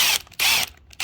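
A power drill bores a 1/4 inch hole for mounting a tow mirror on a 2014 Ford F-150 FX4, giving three close, loud bursts of high whirring with brief pauses between them and no voices.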